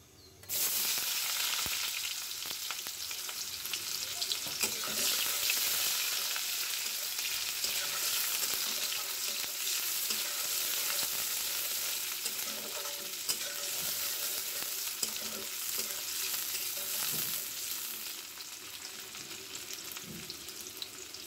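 Onions fry in a pan with a loud, steady, continuous sizzle that hardly changes for a long stretch, with only occasional faint stirring taps.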